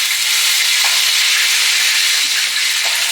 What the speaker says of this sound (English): I am frying chicken for dinner.